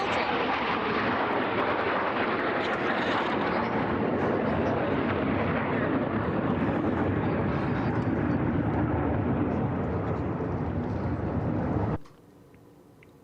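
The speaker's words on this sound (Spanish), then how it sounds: "Aviones militares, aviones tácticos, pasando justo encima del grupo." Military tactical jets passing directly overhead above a crowd in front of the Capitol, a loud sustained roar of broadband engine noise lasting about twelve seconds before cutting off abruptly.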